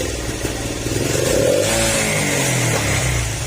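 A motorcycle engine running just after a throttle body cleaning, idling unevenly with revs surging up and settling, loud and close throughout with no talking.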